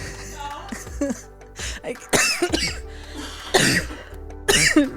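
A close-up fit of harsh, repeated coughs, some clustered and some spaced a second or so apart, with raspy throat sounds between them.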